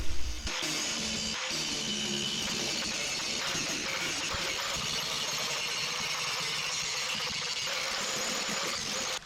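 An angle grinder with a regular grinding disc works down welds on 18 gauge steel panels during rocker panel and cab corner rust repair on a Dodge Ram, a loud continuous harsh whine that starts with a brief burst and holds steady throughout.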